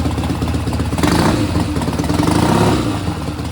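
A Triumph Bonneville café racer motorcycle engine revs up loudly close by, its carbureted engine rising and holding in a rough, clattery roar with the primary side exposed, alone without talk.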